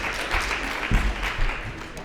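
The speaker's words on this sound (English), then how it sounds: "Everyone give him a round of applause." An audience in a lecture hall gives a short burst of applause, a dense wash of clapping under a muffled voice, with a thump partway through.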